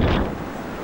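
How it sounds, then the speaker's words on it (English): Ocean waves crash onto a beach shore in El Salvador, one loud broad surge at the start that washes out into a steady rushing hiss with some wind noise. "Just watching the waves crash on the shore here."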